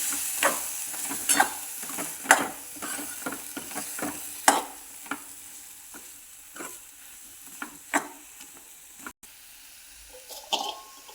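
A spoon scrapes and clinks against a pan in irregular strokes while stirring boiled drumsticks, with a faint sizzle underneath and no voices.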